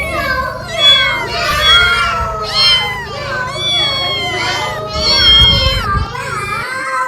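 Several voices sing a rhythmic chant of repeated meows, imitating a cat, with drawn-out wavering notes over a faint background hum.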